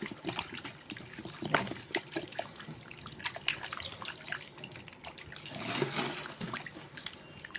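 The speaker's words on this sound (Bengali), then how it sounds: "এবার আমি ফ্রিজ থেকে ঠান্ডা পানি বার করে নিয়েছি, খুব হিট ঠান্ডা হয়েছে। এবার এটাকে আমি এর মধ্যে ঢেলে দেব।" Ice-cold water from the fridge is poured over freshly churned butter for making ghee. It gives a continuous splashing trickle with irregular droplet sounds and a fuller gush around the middle.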